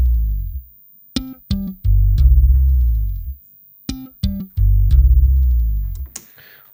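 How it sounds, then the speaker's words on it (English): A Chapman Stick bass line recorded in Cubase: a few sparse, muted plucked taps lead into deep sliding bass notes and ringing harmonics that sustain and fade, repeated twice, close and clean with no talking. "So slide down at the beginning of the bar, a couple of harmonics, that sounds like this."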